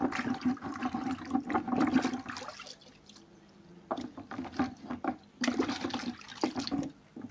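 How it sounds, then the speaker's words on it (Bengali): Water splashes and runs as freshly dyed fabric is rinsed by hand, in several bursts of gushing and sloshing with short, quieter pauses between them. "এবার আমি এটা ধুয়ে নিচ্ছি"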